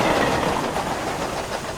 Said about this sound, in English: Murdoch shrieked through the station with a heavy goods train